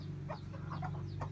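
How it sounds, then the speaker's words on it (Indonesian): Two hens guarding a single newly hatched chick cluck softly in a series of short, faint calls over a steady low background hum. "Artinya 2 ekor induk ayam menjaga 1 ekor"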